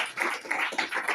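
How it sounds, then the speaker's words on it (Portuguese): A church congregation at a teaching service before a water baptism breaks into a short round of clapping, a quick cluster of overlapping claps lasting about a second. "E toda a igreja, mais uma salva de palmas."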